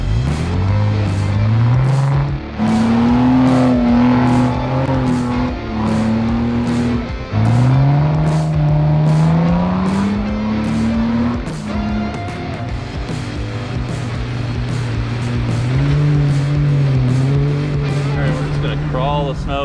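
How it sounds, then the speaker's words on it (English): A Jeep engine stuck in packed mountain snow revs hard in 4 low with all four wheels locked, rising and falling in long loud surges close by, while voices talk over it. "4 high just didn't have the torque to break it out, so we dropped her into 4 low"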